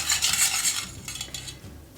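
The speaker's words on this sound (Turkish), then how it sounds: "Karıştırmaya devam ediyorum" Crepe batter of eggs, water and milk being mixed in a bowl, quick clinking whisk strokes against the sides, close and fairly quiet, easing off toward the end.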